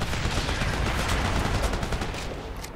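Dense, sustained gunfire from automatic weapons rattles on continuously in the military shooter game Operation Flashpoint: Red River, a loud battle din with overlapping rapid shots that eases slightly toward the end.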